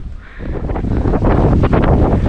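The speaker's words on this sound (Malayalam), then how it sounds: "മുകളിലേക്ക് എത്തിയപ്പോ നല്ല കാറ്റ് കേട്ടോ നല്ല കാറ്റ്" Strong wind on the Vamala hilltop viewpoint at Pallassana, Palakkad, roars and buffets the microphone in a loud, continuous rush that grows stronger after the first half second.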